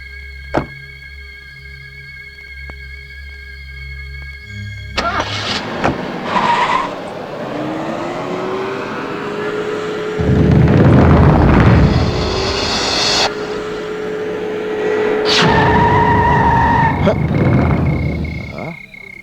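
A car in a Hindi horror film scene rolls along with engine rumble and thumps, then a drawn-out squeal as it brakes to a stop. The sound is loud, close and layered with rumbling bursts and sustained tones.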